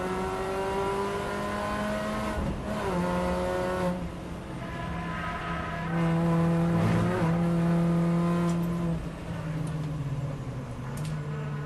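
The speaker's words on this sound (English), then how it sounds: "I ended up locking the brakes to trip the ABS off around lap 8." A race car at Brands Hatch, with brakes locked to trip the ABS off, roars loud and close throughout, its engine note rising and falling through gear changes and steady revving.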